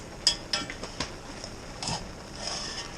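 A spoon scrapes and clinks against a pot as homegrown-tomato chili is stirred, giving a few sharp metallic taps followed by softer irregular scraping, close up with no talking.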